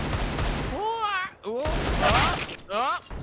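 Grenade blasts and bursts of gunfire from a Counter-Strike match on the Vertigo map rumble beneath loud, excited esports commentary that nearly covers them.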